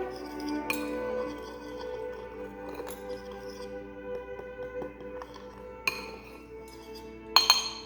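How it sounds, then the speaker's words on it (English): Chilli ingredients with salt are stirred in a bowl, giving quiet, scattered clinks and light scraping against the sides over a low steady background hum, with a couple of sharper clinks near the end. "Once that's mixed, you're just going to want to give it a little stir"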